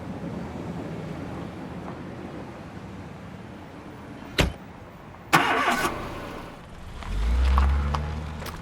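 A car engine starts with a sharp crank and catch, followed by a couple of abrupt bursts and a swelling low rumble as it revs, over a quiet background hum.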